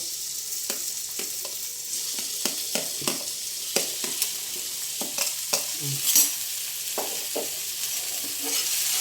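Tomatoes frying in a pan for carrot, coconut and tomato chutney: a constant close sizzle broken by regular scraping stirs, with no talk.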